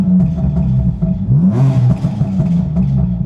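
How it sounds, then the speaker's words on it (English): A BMW M4 running its stock exhaust with the Armytrix system removed drones steadily while driving, with a loud, close engine note that swells in revs partway through. "Have a little listen to this exhaust."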